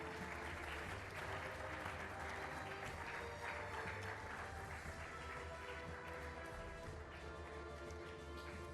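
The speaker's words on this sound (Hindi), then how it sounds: "तालियां बजती रहनी चाहिए" Audience applause at a university ceremony honouring guests, a faint, continuous patter of many hands that holds steady from start to finish, with some murmuring voices mixed in.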